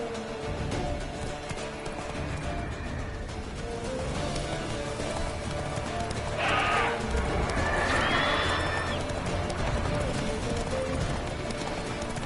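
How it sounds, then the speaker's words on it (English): Horse galloping in Witcher 3: steady hoofbeats and clip-clop under game music and ambience, with a whinny partway through and a voice speaking briefly. "Whoa there, Roach."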